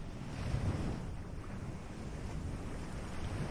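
Steady sea waves and gusting wind roar in a continuous dense wash, loud and close, with no voices on the Algerian coast.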